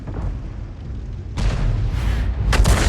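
An artillery shell from the M53/M55 self-propelled gun lands in a video game battle, two heavy booming impacts close together over a low rumbling backdrop.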